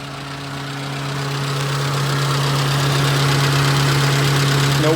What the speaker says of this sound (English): you can definitely hear that the radiator fan is blowing